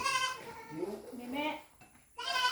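A baby goat bleats while being bottle-fed milk, giving several wavering, high cries close by, with someone talking in the background and a brief quiet gap before the bleating resumes.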